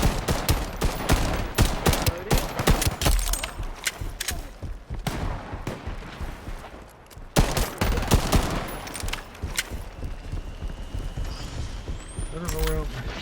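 Dense, loud volleys of gunfire from the shooter Shatterline, sharp cracks and rapid bursts running nearly throughout, mixed with game effects and occasional voices.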